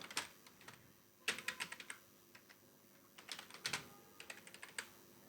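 Someone types a password on a computer keyboard in quick, irregular bursts of soft keystroke clicks with short pauses between groups, close and quiet, with no voices.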